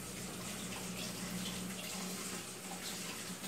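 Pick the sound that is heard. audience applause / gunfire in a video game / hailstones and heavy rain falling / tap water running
tap water running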